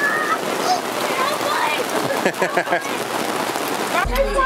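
Rain pattering steadily on a tent canopy at a family reunion, with a dense broadband hiss throughout and a low thump near the end.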